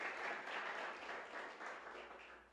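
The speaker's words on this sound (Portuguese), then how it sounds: "Se você tem essa convicção, pode aplaudir o Senhor Jesus" A church congregation applauds during a service, a sustained wash of many hands clapping at moderate distance that tapers slightly at the end.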